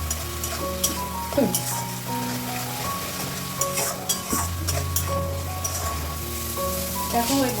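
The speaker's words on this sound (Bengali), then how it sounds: "সব মশলা একসঙ্গে কষিয়ে নেবো যতক্ষণ না তেলটা বেরোয়" Spices, including Kashmiri chili powder, sauté in oil while being stirred, a constant sizzle broken by regular spoon scrapes and clinks, with steady background music tones and no clear talking.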